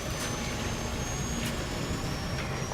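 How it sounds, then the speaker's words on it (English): Helicopter in the Call of Duty video game: a steady, broadband rotor-and-engine roar held at constant loudness throughout, with a faint high whine, sounding fairly distant. "Incoming helicopter! Snipe the bastard!"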